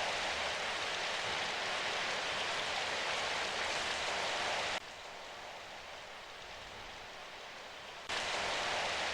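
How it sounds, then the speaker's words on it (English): Steady rain in the visual novel game Symphonic Rain, a dense even hiss of falling rain that drops to a quieter level midway before returning at full strength. "Listen to that rain."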